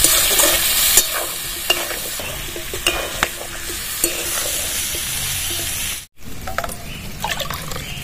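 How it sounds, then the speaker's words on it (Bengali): A spatula stirs a spiced vegetable stem dish with turmeric and green chili paste in a frying pan, with repeated scraping knocks over a steady close sizzle and a brief cut near the end. "ভালো করে নাড়াচাড়া করে নেব।"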